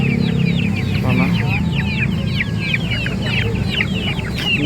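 Local Bangkok chickens and chicks cluck and chirp steadily throughout, with quick high peeping calls repeating over a dense, constant backdrop of farmyard noise at close range.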